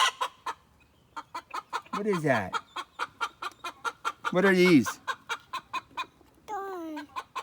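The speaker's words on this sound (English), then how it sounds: "Chicken? What is that up there?" Chickens cluck in a rapid, steady series of sharp calls close by, broken by a few longer squawking cries, while people talk over them.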